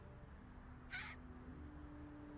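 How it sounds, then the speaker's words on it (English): A single short crow caw rings out once, moderately close in an urban park where researchers watch a nesting pair and fledglings, over a steady low background hum. "those are just regular caws communicating certainly some excitement, but not a scolding vocalization"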